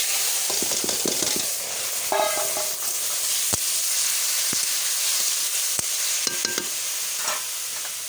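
Bitter gourd hits a hot pan with green chillies and sizzles steadily, with scattered clinks and scrapes of stirring over the constant frying hiss, close and without talk.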